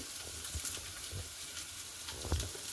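Sliced onion dropped into hot oil in a pan, giving a soft, steady sizzle and crackle with a few light stirring taps during late-night home cooking.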